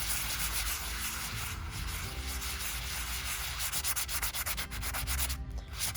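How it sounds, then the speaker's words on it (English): Fine sandpaper rubs over baked polymer clay pieces: an ornament, a coaster and earrings. Close, continuous scratchy strokes go on throughout in an even, steady rhythm. "I am going to give them a fine sand."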